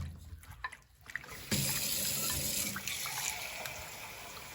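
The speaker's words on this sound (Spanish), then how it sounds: "Una vez picadita nuestra patita, le agrego 2 tazas de vinagre." Vinegar pours steadily onto chopped pork feet, a continuous close liquid splash and trickle following a few quiet handling knocks.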